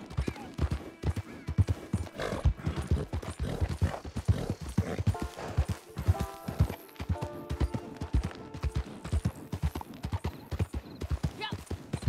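Hooves of a hard-pushed horse galloping in the game Red Dead Online, loud rhythmic clip-clop beats close up for the whole stretch, with someone talking over the pounding gait.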